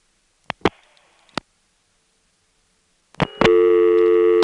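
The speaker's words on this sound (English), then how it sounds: "So I guess we were lucky to get that immediate busy signal the first time we did that." GTE NX2 crossbar telephone exchange from 1978: a few sharp relay clicks, a faint brief tone, more clicks, then a loud steady busy signal takes over at the end.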